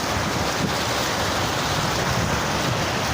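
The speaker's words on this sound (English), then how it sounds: "but that water might be too loud in the background" Water waves wash steadily in the background as a continuous broadband rush with no clear breaks, close and fairly loud, with wind buffeting the microphone and no voices.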